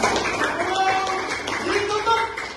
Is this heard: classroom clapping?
yes